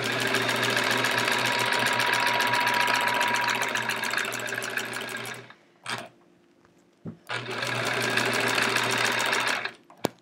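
A sewing machine quilting the border of a Splendid Sampler quilt runs in a rapid, steady stitching whir for about five seconds, stops briefly with a couple of short bursts, then runs steadily again before cutting off.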